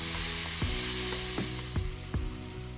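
Chopped tomatoes sizzle in hot oil in a pan over fried onions for dabeli filling, with a steady close frying hiss broken by several sharp spoon scrapes and stirs, no voices.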